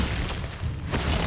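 The Glacius freezing spell strikes in Hogwarts Legacy, a brief burst of booming, crackling noise with a short dip before a second surge of impact sound.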